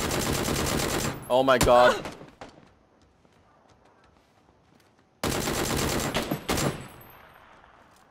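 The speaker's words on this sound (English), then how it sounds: "Ooh, the Tachanka gun." Bursts of Tachanka mounted machine gun fire in a video game, loud broadband rattling in two stretches separated by a quieter gap, with a voice exclaiming over the first burst.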